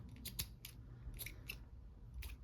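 Fabric scissors snip through fabric scraps in several short, crisp cuts, some in quick pairs, close and fairly quiet over a soft low background hum.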